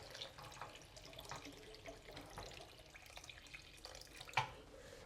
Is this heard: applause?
no